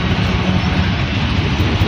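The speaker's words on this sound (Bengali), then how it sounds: "দেখো প্রতি মেট্রো যাচ্ছে" A metro train rolls past a car on a clean city road, a steady loud low rumble with broadband rushing noise that holds evenly for the whole short stretch, no voices.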